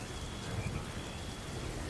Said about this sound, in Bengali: ঝিরিঝিরি বৃষ্টি পড়ছে অবিরাম।